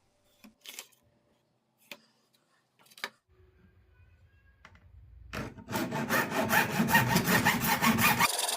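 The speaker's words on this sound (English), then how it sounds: "cut using hacksaw blade" A hacksaw blade cutting copper-clad PCB board: a few isolated taps and scrapes at first, then continuous rasping back-and-forth sawing strokes that build and stay loud and close to the end.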